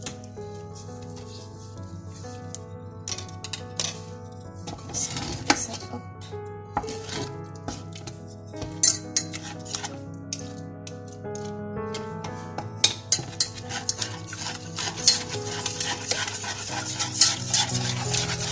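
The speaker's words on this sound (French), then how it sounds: "nous allons ajouter les œufs, donc un par un. Voilà, ensuite on mélange." Eggs being beaten one at a time into choux pastry dough in a bowl, with irregular scraping, slapping and tapping strokes of the utensil, close and fairly quiet, over steady background music with no talking.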